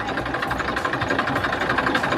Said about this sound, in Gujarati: બળદ તો નહીં પણ ટ્રેક્ટરથી અમે હળ કરીએ છીએ